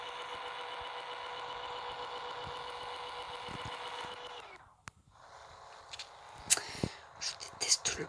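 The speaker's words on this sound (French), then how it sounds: "Je déteste le bruit quand la voiture recule." A car's reversing alarm beeps in a steady, repeating pattern for several seconds, faint and somewhat distant over low engine noise, then stops, followed by scattered clicks and rustles as someone whispers nearby.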